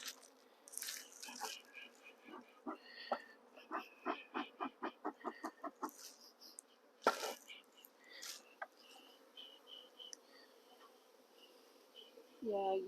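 Honeybees at the entrance of a demonstration hive, chasing small hive beetles, buzzing in quiet irregular bursts with one run of rapid pulses, faint and close, with soft sounds of a person nearby.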